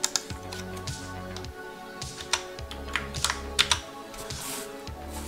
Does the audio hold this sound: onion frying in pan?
no